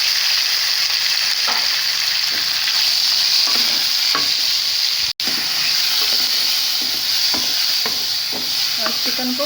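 Chicken pieces fry and sizzle in a pan with golden-browned garlic, a steady loud crackle broken by stirring scrapes, with no talk and one brief dropout partway through.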